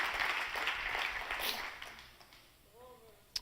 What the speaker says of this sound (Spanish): Dar un aplauso a Dios.